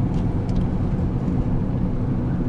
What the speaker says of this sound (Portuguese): Tá vindo uns carros ali.